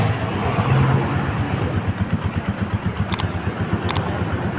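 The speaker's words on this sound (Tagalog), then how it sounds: "Mga guys, yan po yung tunog ng kanyang pipe." A Rusi Macho 150 motorcycle idles nearby with a steady, throaty exhaust-pipe putter, a couple of faint clicks over the rhythmic pulsing.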